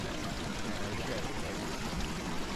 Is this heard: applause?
no